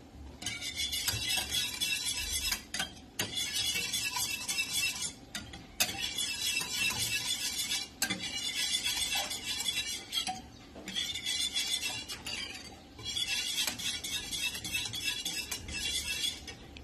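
Béchamel sauce stirred continuously in a pot for eggplant bake, a steady scraping and clinking of utensil against metal in repeated bursts with brief pauses, close and fairly clear, no voices.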